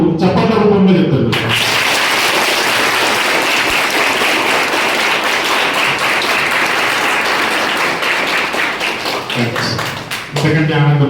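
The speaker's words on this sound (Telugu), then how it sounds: "మా స్టూడెంట్స్ కి కూడా అద్భుతంగా ఉంది అని ఇప్పుడు చప్పట్ల రూపంలో చెప్తారు" Students at a junior college in Gandeed village burst into sustained, loud applause after a brief spoken line, the dense clapping filling the hall for several seconds before talk resumes near the end.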